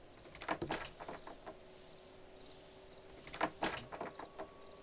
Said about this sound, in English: The doors all open and close.